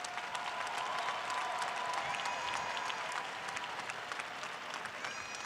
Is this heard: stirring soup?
no